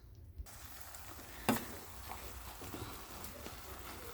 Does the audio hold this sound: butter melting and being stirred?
yes